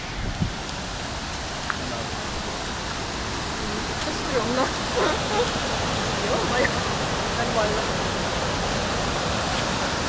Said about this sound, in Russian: Слышно уже звук водопада.